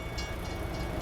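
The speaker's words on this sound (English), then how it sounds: "But you hear the train and stuff coming." A train rumbles along a railway track in American Truck Simulator, a dense continuous roar with low rolling noise and faint rhythmic hiss, heard alone for about a second.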